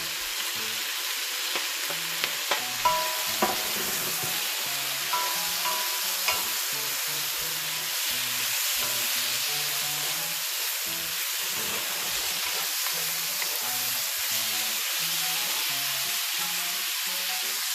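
Red pepper and mushroom sizzle steadily in a hot frying pan, a continuous close, even hiss with faint scrapes of stirring and no talking.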